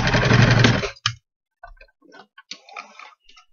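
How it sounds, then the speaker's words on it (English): A sewing machine running a stretch stitch along a fabric headband seam, one short steady whir for about a second, then faint ticks and small handling sounds. "we're going to make one straight stitch right on that seam that you have"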